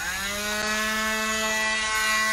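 A small battery-powered drill boring a hole into the back of the head of a wooden clothespin angel ornament, giving a steady, loud, tonal whine held throughout with no talk.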